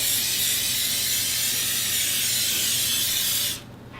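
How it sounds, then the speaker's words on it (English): A steady, close spray of olive oil onto potato skins hisses continuously for about three and a half seconds, then cuts off abruptly, leaving a faint low hum. "I'm spraying them with olive oil."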